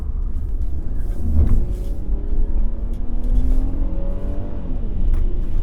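A 2001 Toyota Avalon with an automatic transmission pulls hard in second gear on a canyon road. The engine drone climbs steadily in pitch under loud, constant road and wind noise heard from inside the cabin, with no talking.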